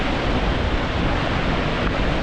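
Gullfoss, the two-tiered waterfall in an Icelandic canyon, gives off a constant heavy roar, loud and unbroken, with some wind buffeting mixed in and no talking.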